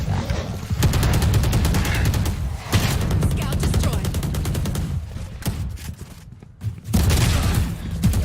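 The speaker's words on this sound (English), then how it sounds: "nice headshot there from Leia" Gunfire in a Valorant tournament match, dense rapid automatic bursts and bangs that sound loud and close, running almost without pause and broken by a couple of brief lulls.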